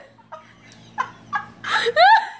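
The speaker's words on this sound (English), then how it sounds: "this freaking bird is something else" A pet bird squawks indoors in a few rising, harsh cries that grow louder and longer toward the end, close to the mic.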